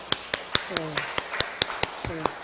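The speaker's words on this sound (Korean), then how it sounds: "한번 박수 한번 다시 한번." Scattered claps from a church congregation during a Thanksgiving service, a handful of sharp, separate hand claps in an uneven rhythm, with voices and brief talk between them.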